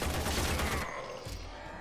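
Rapid assault rifle fire in the video game Warframe, a dense burst of fast automatic shots blurring into a continuous roar that drops off partway through, followed by a quieter mechanical tail, with no talking.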